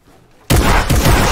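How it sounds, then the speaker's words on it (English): Gunfire in the Fortnite video game breaks in abruptly after near silence: a loud, close burst of rapid shots that continues in a dense, rattling stream with no talk over it. "Oh, they're shooting us down."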